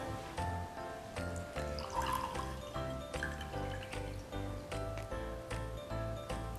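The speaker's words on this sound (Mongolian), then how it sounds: "Эхлээд өндөр шилтэй усаа шилэн аягандаа хийлээ." Water is poured from a tall bottle into a glass tumbler, a quiet, steady liquid trickle with repeated dripping, filling sounds over several seconds.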